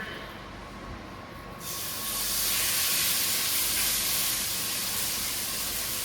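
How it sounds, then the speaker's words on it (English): Pork tenderloin, seasoned with salt and pepper, sears in a hot skillet with a broad, steady sizzle that swells sharply after the first second and a half, then holds loud and even with no talk over it. "I'm going to put it in the skillet so that it can go ahead and start searing"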